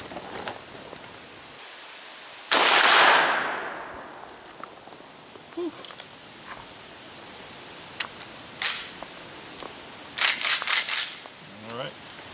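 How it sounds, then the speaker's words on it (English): A Mossberg 500 shotgun with a green dot sight fires triple-aught buckshot at a target 55 yards away outdoors, one loud sharp blast with a long decaying echo, followed by faint clicks and handling noises over a steady insect hum. "Mossberg 500 green dot, and we'll go ahead over at the left target now with this triple-aught buck."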